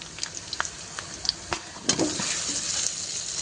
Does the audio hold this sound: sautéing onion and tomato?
yes